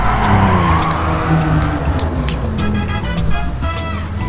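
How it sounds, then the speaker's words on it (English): Aston Martin DB11 sliding on a race track, a loud continuous engine roar mixed with tire squeal and skidding noise, close and sustained throughout. "it slides a lot, and that slides off the track"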